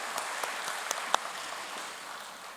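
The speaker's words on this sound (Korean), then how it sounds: "우리 YSP 찬양팀에게 다시 한번 감사의 박수를 보내주시기 바랍니다" An audience claps for a YSP praise team at a peace blessing ceremony, a steady wash of applause with a few sharper single claps standing out near the start.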